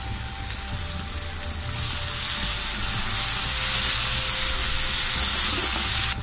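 Tomatoes and coriander dropped onto fried onions in a hot pan for a soya chunk masala, a loud, steady crackling sizzle that swells and stays dense to the end, close and uninterrupted.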